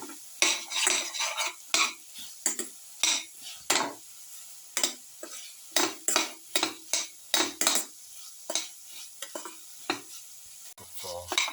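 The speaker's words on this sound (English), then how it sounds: "Cook for 15 to 20 minutes while sauteing" A winter melon and potato mixture seasoned with cumin, chili powder and salt is sautéd in a pan, with repeated rhythmic scrapes and clinks of a spoon stirring over a soft sizzle.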